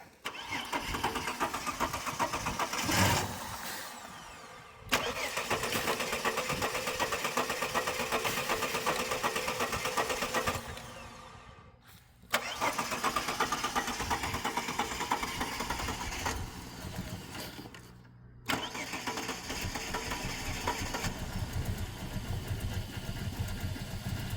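A car with its fuel pump relay removed cranks and fires, its engine settling into a loud, steady idle that runs for long stretches, dipping briefly to near silence twice before catching and running again.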